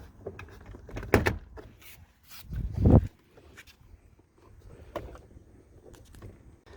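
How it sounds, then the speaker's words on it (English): A 2019 Toyota RAV4 door panel is pried off by hand, with two loud plastic pops and scrapes about two seconds apart, then softer clicks and rustling close by. "Put your fingers there and pull on this corner, and then go from the bottom, go up"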